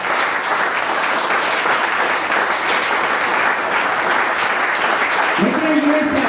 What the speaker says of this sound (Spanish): Y usted puede aplaudir al Señor.